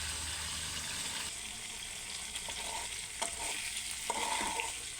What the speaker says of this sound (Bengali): আমি এখনও 3 মিনিটের মতো কষাবো।